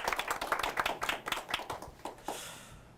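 A studio audience claps to welcome a guest on a live business talk show, a quick run of distinct close claps that thins out and fades after a couple of seconds.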